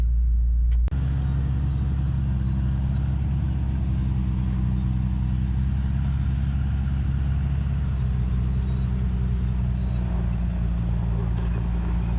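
Low, steady engine rumble from an off-road vehicle slowly towing a CF Moto with a broken tie rod, starting abruptly after a second and droning on evenly and close with no talk.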